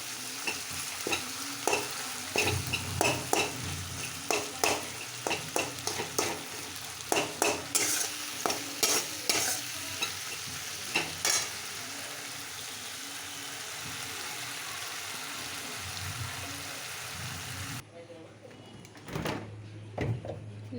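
A spice paste stirred and fried in a pan for a vegetarian elephant foot yam curry, with repeated spatula scrapes and knocks over a continuous sizzle for most of the stretch, then quieter sizzling with a couple of final stirs.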